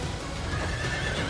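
A horse whinnies in Fire Emblem: Three Houses, a bright drawn-out neigh over a busy game soundscape with no speech.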